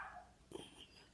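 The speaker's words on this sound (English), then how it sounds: "Sorry, my dog's being a pain" A dog gives a single short yip-like bark midway, faint and somewhat distant, with a brief whine beforehand and soft room noise around it.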